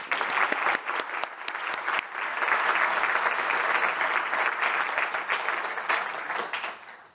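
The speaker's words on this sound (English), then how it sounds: "So can we get a round of applause for them, please?" An audience gives a long round of applause at a stage event, starting with distinct claps that swell into dense, steady clapping before tapering off near the end of seven seconds.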